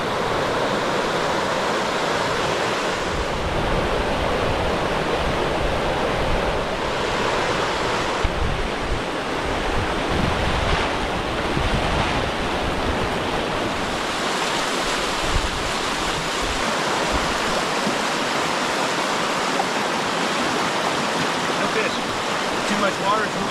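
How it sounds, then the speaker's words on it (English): Fast-running creek water beside the Denali Highway in the Alaskan backcountry rushes in a steady, loud, unbroken roar that holds for more than twenty seconds. "This creek is running pretty fast."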